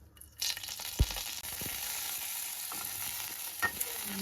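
Curry leaves frying in a little oil in a pan, giving a steady close sizzle with a few sharp pops and crackles and no talk.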